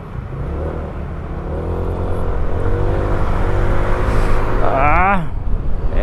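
Road traffic on a Bicol route in the Philippines, with a steady car engine hum and whir filling the scene, rising to a revving tone near the end while people talk over it.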